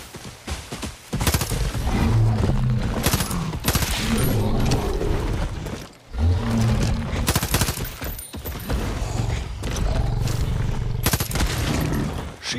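Heavy, sustained gunfire in Far Cry New Dawn, with loud overlapping bursts of shots firing almost continuously during a co-op fight, broken by one brief lull.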